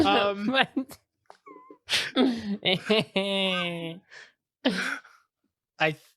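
A cat whining with several short, drawn-out, nasal cries that rise and fall, heard near and fairly loud between stretches of people talking.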